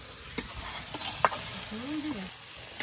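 Meat being fried down in a pan in a village kitchen, giving a low sizzle with a few sharp stirring knocks, near and at moderate level.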